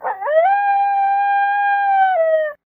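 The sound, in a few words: howling, like a wolf or werewolf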